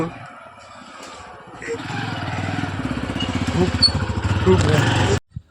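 A motorcycle pulls away nearby, its engine thumping in a rapid, rhythmic putter that grows louder, then cuts off abruptly, with people talking around it.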